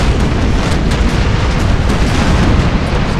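An artillery volley in Napoleon: Total War, a loud, dense and continuous roar of cannon fire and explosions running without a break from start to finish.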